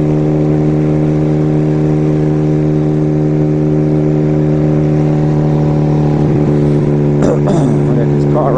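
A motorcycle engine drones steadily at close range while riding north on a road past Catalina State Park in Arizona, with a constant rumbling hum and a brief rising whine near the end.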